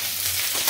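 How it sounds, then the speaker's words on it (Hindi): Sliced onions sizzle in hot oil in a pan during home Indian cooking, a brief, bright, steady frying hiss with no talking. "और अब प्याज डाल, तो प्याज डाल देते हैं"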